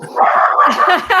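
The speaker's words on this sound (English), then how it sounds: "that's my dog." A dog barks and yips briefly nearby indoors, a short burst of whiny vocal sound.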